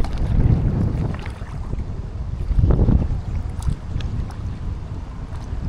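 Strong wind buffeting the microphone while paddling a kayak downriver near Mtskheta, a steady roaring rush with heavier gusts swelling at the start and again a little before the middle.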